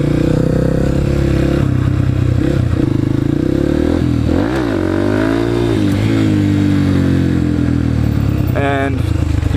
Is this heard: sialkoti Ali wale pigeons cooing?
no